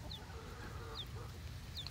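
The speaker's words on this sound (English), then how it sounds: "see the little baby bitties in there." Baby chicks in a brooder pen give three short, high peeps spaced apart, faint over a steady low background hum.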